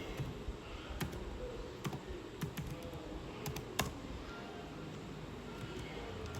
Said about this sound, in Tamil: இதில் வந்துட்டு பர்த் சர்டிஃபிகேட்னு டைப் பண்ணுங்கள்.